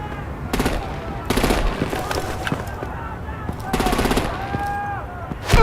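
Rapid machine-gun bursts rattle in several loud volleys during an action sequence in Batman: The Enemy Within, with short pauses between bursts and faint voices underneath.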